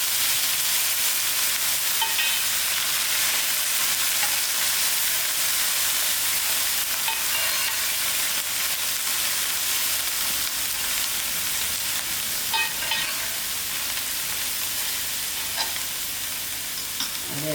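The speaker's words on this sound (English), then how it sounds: "Firstly, I'll add in my onions to fry." Chopped onions frying in hot oil in a pan, a steady dense sizzle with occasional crackles, running loud and continuous throughout with no talking.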